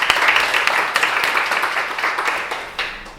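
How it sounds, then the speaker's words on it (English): Audience applause at a Startup Grind Cluj-Napoca event welcoming Daniel Tamas, CEO of Jellycs, a close, loud patter of many hands clapping that fades slightly near the end. "So please give him a round of applause."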